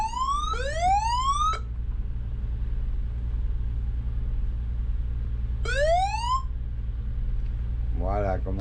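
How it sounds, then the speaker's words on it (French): A boat's anchor alarm beeps on board while leaving an anchorage: two rising electronic chirping tones several seconds apart over a steady low engine drone, with a brief voice at the end. "j'ai oublié d'éteindre l'alarme de mouillage"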